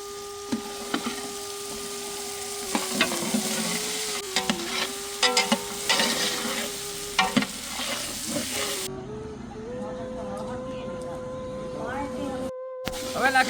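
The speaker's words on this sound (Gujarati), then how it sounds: "હવે નાખી દઈશું ફુલાવર." Cauliflower dropped into a hot frying pan for a village-style mixed vegetable dish, with a steady close sizzle and hiss, stirring scrapes and clatters, and a brief spoken voice partway through.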